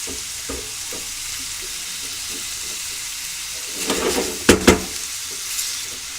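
Chicken paratha filling sautéing in a pan gives a continuous, loud sizzle for the whole stretch. A couple of sharp utensil clatters and scrapes stand out near the end.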